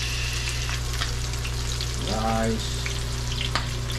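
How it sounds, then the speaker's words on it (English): Bammy and fish frying in hot oil, giving a steady close sizzle and crackle throughout, with a brief voice speaking over it. "That's how the bammy looks like frying."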